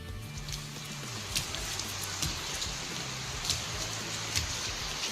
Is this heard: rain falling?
yes